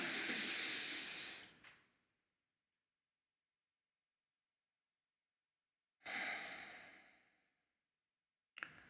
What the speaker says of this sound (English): I want every one of you to take 3 long breaths